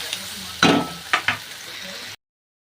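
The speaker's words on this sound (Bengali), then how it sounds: "দিয়ে আমি মশলাটাকে ভালো করে সুন্দর করে কষিয়ে নেবো।" Spiced paste of turmeric and cumin being sautéed in a pan gives a low frying sizzle, broken by a few louder scrapes of stirring, then cuts to silence near the end.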